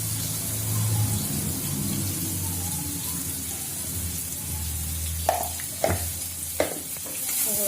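A tomato and cauliflower curry is stirred in a frying pan, a soft simmering sizzle under low rumbling, followed by a few sharp spoon knocks against the pan near the end. No voices are heard.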